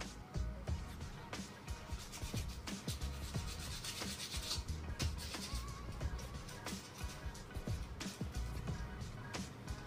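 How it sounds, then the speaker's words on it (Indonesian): Sandpaper rasps against an iron nail in quick, uneven back-and-forth strokes, close and scratchy, with no one talking over it. "Hal yang pertama harus saya lakukan adalah mengamplas paku."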